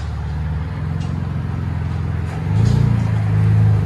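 A Chevy Camaro 3.6L V6 exhaust fitted with INOMAX bullet mufflers idles with a loud deep burble, then swells into a fuller, throatier rev near the end.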